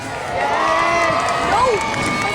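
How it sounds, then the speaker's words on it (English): A crowd on a beach at the Rhyl Airshow cheers and shouts in a loud, sustained outdoor roar, with scattered voices rising above it and clapping mixed into the noise. "it's everybody around the double-decker bus's turn and on the beach to clap and cheer as loud as you can"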